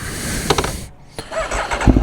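Aprilia Tuono V4 1100 Factory motorcycle engine starts up close by: a whirring crank, a brief pause, then the engine catching and settling into a rough, loud rumble.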